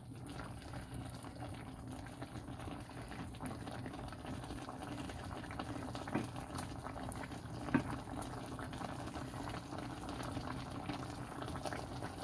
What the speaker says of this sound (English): Simmer it, and I'm gonna simmer this for about 1 hour.